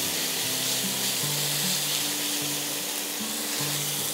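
Ginger and a generous amount of garlic sauté in a pan, giving a continuous hissing sizzle with a steady low tonal hum running underneath and no voices.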